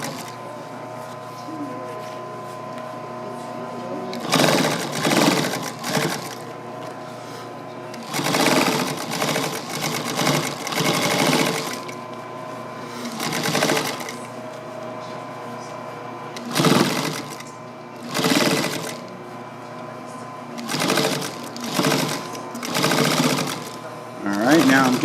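A sewing machine stitches the border onto an upholstery cushion in repeated close, rapid bursts separated by pauses, with a quiet voice speaking at times between runs.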